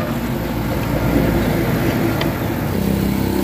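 A motorcycle engine on a Mikuni carburetor with a freshly replaced spark plug runs at a steady idle, a continuous close rumble with no talk over it.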